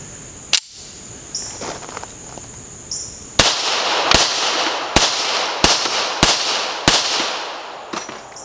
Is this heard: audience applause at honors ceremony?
no